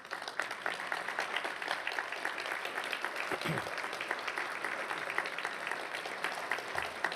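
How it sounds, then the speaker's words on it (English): Sustained standing applause from a large audience at a college graduation ceremony, a dense, steady patter of clapping that continues throughout. "as you stand up and applaud them"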